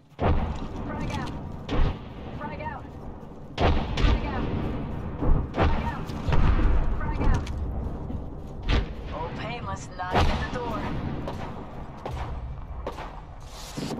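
Gunfire and a grenade explosion in the video game Apex Legends come as irregular booms and sharp shots scattered across the scene, mixed with game voice lines and talk.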